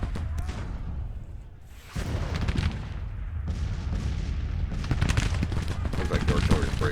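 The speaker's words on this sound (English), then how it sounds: "Looks like the artillery's breaking in morale." Civil War artillery and musket fire rumble continuously in the Grand Tactician: The Civil War strategy game, with dense booms and crackling volleys that swell louder toward the end while someone talks over them.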